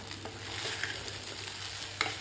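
Steady stirring of sabudana khichdi in a frying pan: faint scrapes and taps of a spatula over continuous gentle sizzling, heard up close with no voices.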